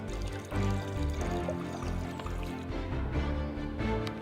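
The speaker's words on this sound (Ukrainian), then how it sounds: "Набираємо в відро воду." Water runs into a bucket that already holds about 500 grams of slaked lime, a steady close pour with hollow gurgling and splashing, plus a few knocks and bumps along the way.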